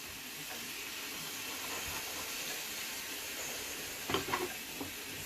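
Chilli fries in a pan with a steady, hissing sizzle, soft and continuous, broken near the end by a few faint clinks of a spoon stirring.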